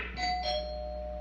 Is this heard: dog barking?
no